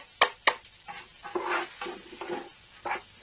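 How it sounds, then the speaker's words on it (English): Rice toasting in a pan with balsamic vinegar, a spoon scraping and stirring in uneven strokes, a couple of sharp knocks against the pan, then a soft sizzle under the scrapes up close. "So I'm going to just toast them, and I like the brown color that is giving"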